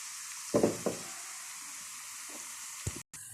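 Garlic hits hot oil in a pan for Egyptian koshari, giving a sudden loud sizzle burst followed by a steady, quieter frying hiss, with a couple of brief utensil knocks near the end.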